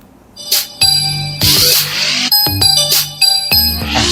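Music from a helmet-mounted Bluetooth headset, with sustained tonal chords and bright notes, plays in short bursts, starting and stopping a few times, fairly loud and close, with no talking.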